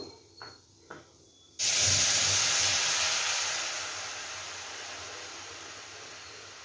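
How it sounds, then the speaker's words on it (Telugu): Powdered jaggery and a little water go into a hot pan to make syrup for ragi laddu. A couple of light taps are followed by a sudden loud, steady hiss that slowly eases off. "ఇప్పుడు మిక్సీ పట్టుకున్న బెల్లం దీంట్లో వేస్తున్నానండి. దాంట్లోకే కొద్దిగా వాటరు"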